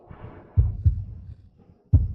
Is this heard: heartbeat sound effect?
yes